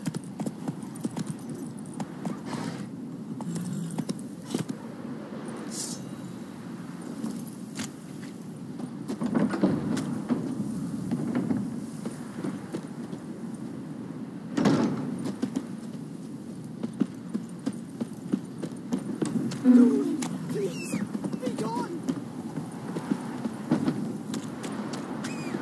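Roach the horse's hooves clip-clop steadily in The Witcher 3, an even walking rhythm with faint tack jingles, close and moderate in volume.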